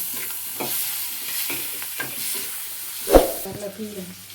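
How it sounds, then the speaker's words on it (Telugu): Tomato pieces frying in oil in a pan for a mung dal vada curry, a steady close hiss with stirring scrapes and a sharp clatter partway through, no talking. "ఇప్పుడు టమాటా పొలుకులు వేసుకుంటున్నా"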